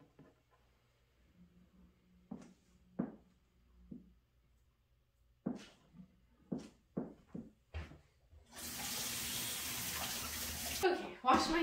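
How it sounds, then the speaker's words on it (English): Tap water running loudly in a kitchen sink as hands are washed, preceded by scattered knocks and a few short spoken words. "Okay, wash my hands again."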